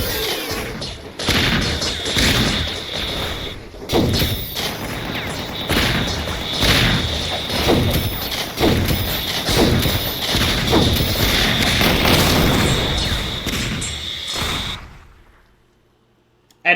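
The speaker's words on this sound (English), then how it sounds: "blades that then explode and do a lot of damage" Exploding blades weapon in Ratchet & Clank firing continuously, giving a dense stream of loud metallic impacts and bursting blasts that runs for about fifteen seconds before cutting off to near silence.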